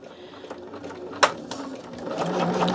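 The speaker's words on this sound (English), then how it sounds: "Just kind of do chain stitching because this is row 1" A sewing machine chain stitching quilt blocks runs steadily at close range, its motor hum and needle chatter continuous, with a sharper click partway through.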